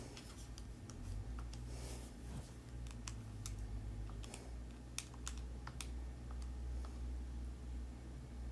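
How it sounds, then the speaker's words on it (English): Quick, light key presses while numbers are entered into a calculator, a close run of sharp clicks in an irregular rhythm with no talk. "let me just type that into my calculator fast"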